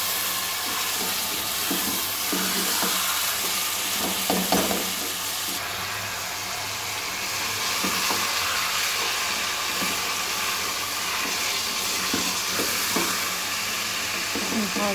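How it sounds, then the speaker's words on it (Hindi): Onions frying in a pan: a continuous close sizzle and hiss with occasional scraping and stirring knocks, lasting throughout without talk. "प्याज फ्राई कर लेती हूँ"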